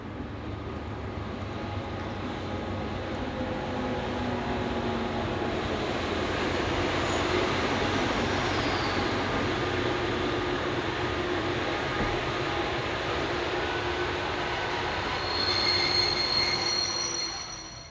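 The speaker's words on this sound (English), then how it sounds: "Dutch locomotives are common, although usually Class 6400 as seen in this example." A Dutch Class 6400 locomotive hauls a train past, a steady broad rumble of wheels and engine holding for the whole stretch, with a squealing metallic whine of the wheels rising near the end.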